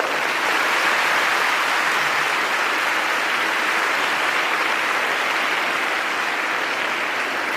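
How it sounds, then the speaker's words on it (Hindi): Seminar audience at a legal awareness event breaks into vigorous, loud applause, a dense unbroken wash of clapping that continues evenly for several seconds with no talk over it. "आपकी ताली में बहुत जोर है।"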